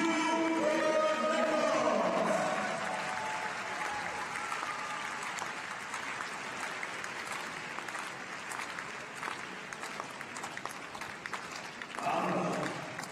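Spectators at the 2018 World Para Athletics European Championships clap during a para athlete's run-up to a jump, steady applause that fades after the first seconds and swells briefly near the end.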